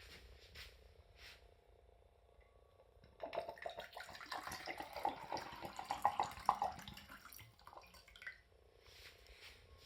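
Water pours and trickles steadily through a water filter for several seconds, with dripping and gurgling, quieter trickles before and after.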